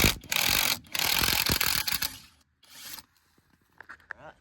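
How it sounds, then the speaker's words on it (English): A ratchet works loose 17 mm bolts on a 2022 Kawasaki Mule Pro MX, loud rapid clicking bursts up close, then a pause and a few lighter metallic taps. "There's 4 bolts. There, there, there,"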